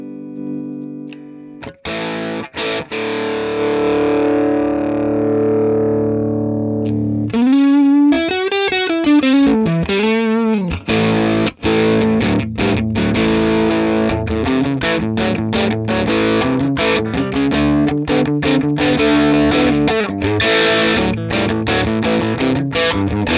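An electric guitar played through a small red amp with its distortion control switched on gives a thick, buzzing overdriven tone, first a long sustained chord, then a wavering bent note and repeated picked chords and riffs, loud and steady.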